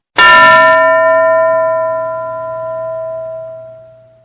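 A single bell struck once with a bright metallic clang, then a clear ringing tone that lingers and slowly decays over about four seconds, alone and close.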